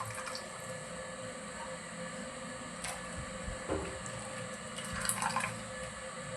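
Running water over fish being washed for a Tamil-style fish recipe, a soft, steady trickle and splash with faint clinks, fairly quiet throughout.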